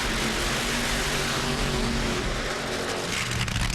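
Nitro drag racing cars with their engines fired up, Ashley Force's car and John Force's car at an Atlanta race in 2008, a loud, steady, broadband engine roar that fills the whole clip, with no talk over it.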